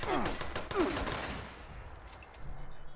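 Gunfire in the video game Fallout 76, a sharp shot burst near the start with another around the first second, then fading into quieter game ambience.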